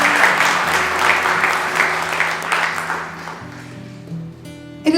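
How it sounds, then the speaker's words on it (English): An audience applauding the fathers present at a San Ramon, California evening event, a warm burst of many hands clapping that fades over a few seconds, close and loud. "So a big round of applause for all the dads in the room."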